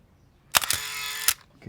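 Canon T70 35mm FD SLR film camera firing its shutter at 1/1000: a sharp double-edged mechanical snap with a whirring motor-wind in between, close and crisp in a quiet room.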